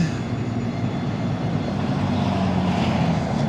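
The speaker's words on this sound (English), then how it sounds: "you can see the roof of another locomotive parked here, 193204 is idling" A parked BNSF locomotive idles with a steady, droning low engine hum and faint mechanical overtones at a rail yard in Aurora, Illinois. The sound is continuous and heard from above, with no talking.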